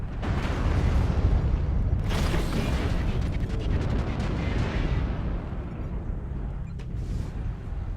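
Video game artillery fire, a dense continuous roar of booming blasts and rumbling mechanisms filling the whole stretch, loud and close with no clear gaps.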